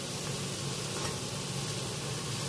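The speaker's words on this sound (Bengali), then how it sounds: "একদম লাল করে চপের মতো করে ভেজে নিতে হবে।" Green jackfruit muitha dumplings fry in hot oil until deep red, giving a steady, even sizzle with no break.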